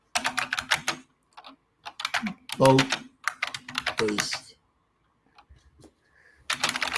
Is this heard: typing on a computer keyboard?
yes